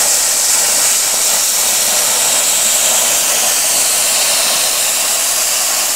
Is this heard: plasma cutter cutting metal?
yes